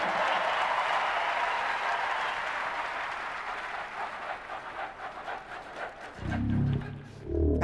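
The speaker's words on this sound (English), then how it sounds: "it is so nice to hear you cheering for yourself" Convention crowd at the 2016 Republican National Convention cheering and applauding, a dense, loud wash of clapping and shouts that tapers slightly before a voice begins speaking near the end.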